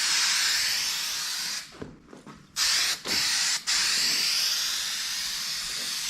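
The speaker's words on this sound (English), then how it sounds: "you got to spray both surfaces. Spray the padding and the panel itself" A spray can hisses steadily while adhesive goes onto the padding and an interior panel of a Plymouth Fury, a long close continuous spray broken by a few short pauses and bursts near the middle.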